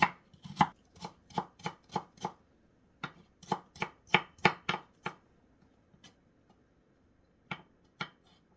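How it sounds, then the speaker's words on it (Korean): Rapid, crisp chopping thuds in quick bursts from a vegetable chopper mincing vegetables for cucumber kimchi, steady rhythm of blade hitting board, then a pause and a couple of final chops. "야채 다지는 초퍼 있잖아요. 거기다가 넣고서 적당하게 하셔요."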